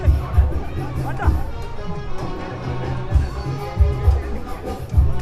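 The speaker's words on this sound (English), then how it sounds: "A fairly decent crowd out here at the Waikaraka Park." Spectators at a cricket match at Waikaraka Park make a moderate murmur of babble with intermittent low thumps and music in the background, under a commentator's voice.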